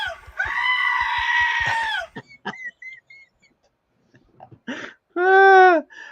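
A black-sheep bleating sound effect plays on a live stream, a loud drawn-out bleat followed by scattered clicks and short noises, a quiet gap, then a second strong bleat near the end.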